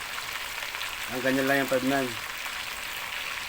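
Eel pieces fry in a pan for adobo sa gata, a soft sizzle running steadily in the background while a person speaks briefly over it.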